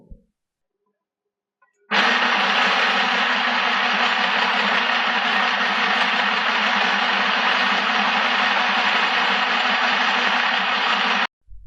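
A cheap mini sewing machine runs at high speed in one steady, loud, continuous whir for about ten seconds. It starts abruptly after a brief quiet moment and stops just as suddenly, with no talking over it.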